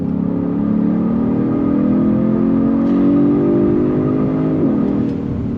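Genesis G70 sedan engine in Sport Plus mode holding a steady, loud rev under hard braking, a continuous drone that dips briefly near the end, with no talking.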